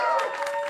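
Applause from a live audience at a comedy show taping, a short, steady burst of clapping with crowd noise, loud and close.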